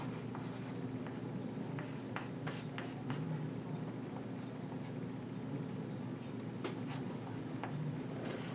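Marker or pen writing out a determinant product formula, a steady run of short scratchy strokes in irregular rhythm, close and fairly quiet over a constant low hum, with no talking.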